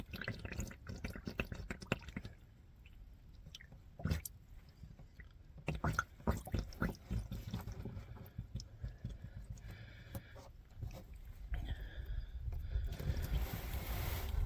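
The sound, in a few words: motor oil draining from a Ram 1500 into a drain pan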